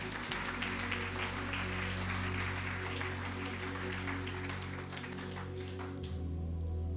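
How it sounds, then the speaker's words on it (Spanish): Applause for the King rises from a congregation at a Christian worship service, steady clapping over sustained music that fades near the end. "Denle un aplauso al Rey."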